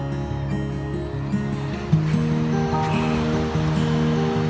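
Ocean waves on the beach at Carpinteria State Beach at dusk, a steady wash of surf rolling in beneath a sustained hum and tonal drone, with one slightly louder surge near the middle.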